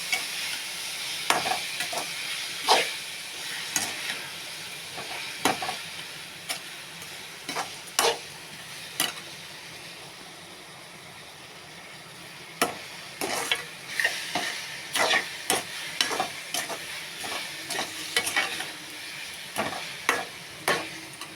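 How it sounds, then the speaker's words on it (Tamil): A coconut and sugar mixture for homemade coconut candy is stirred in a pan, giving irregular, close scraping and tapping strokes of the spoon against the pan over a low, steady background, with a quieter pause midway. "இந்த அளவுக்கு நல்லா நம்ம ஜீனியோட சேர்த்து நல்லா கலக்கிக்கிறோம்"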